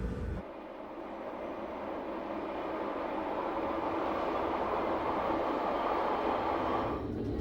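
Glacier Express train running on rails on its mountain line, a steady close rumble and clatter that holds evenly for several seconds with no voices.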